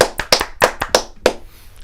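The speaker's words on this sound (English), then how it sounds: "Go ahead, clap it up." A few sharp hand claps close to the mic during a college football talk show, about six claps in an uneven rhythm that trail off, with no talking over them.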